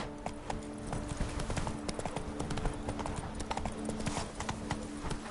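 Roach, a horse in Witcher 3 Blood and Wine, gallops with rapid, rhythmic hoofbeats, close and loud throughout over a low background drone.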